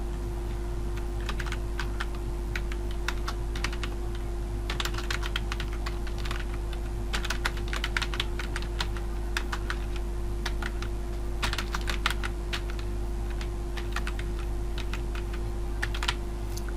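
A computer keyboard clatters steadily as an address is typed into a job application form, with bursts of quick close keystrokes over a constant low electrical hum.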